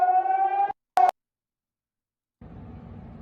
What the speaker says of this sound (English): Sirens going off in Jerusalem.